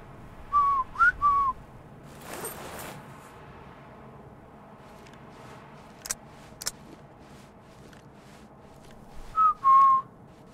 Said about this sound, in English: Whistling is so loud.